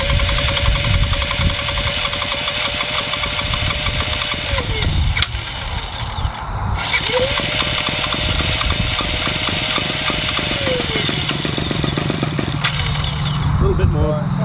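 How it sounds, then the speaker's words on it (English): A small UAV helicopter's piston engine is primed and started, a buzzing motor running steadily for most of the stretch with a brief dip midway while people talk nearby. "So, they'll prime the engine, choke off, and ignition on."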